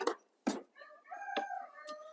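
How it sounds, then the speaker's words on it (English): A rooster crows close by during morning farm chores, a long drawn-out call that follows a couple of short sharp clucks, with no talk over it. "roosters getting on hens and Freya stomping"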